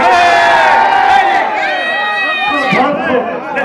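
A large crowd at a religious gathering at a Penukonda dargah shouts the slogan Naara-e-Haidari in unison with raised hands, a loud, sustained roar of many voices with rising and falling cries.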